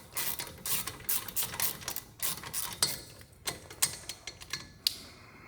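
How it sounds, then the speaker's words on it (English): A ratchet driving a 13mm socket tightens the hub bolts on a RAM 1500 front wheel hub, giving quiet, close clicking bursts in short uneven runs. "we can use our 13mm socket and snug those down"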